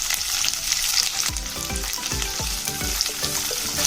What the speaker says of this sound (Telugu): దోరగా వేయించుకోవాలండి